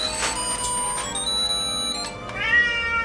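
A cat meows several times in quick succession, fairly close, with a bright tonal chime ringing steadily underneath.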